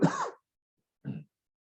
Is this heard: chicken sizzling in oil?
no